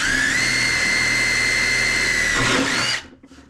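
A power drill drilling through metal with a greased bit whines at a steady high pitch for about three seconds, then winds down and stops, leaving faint rustling.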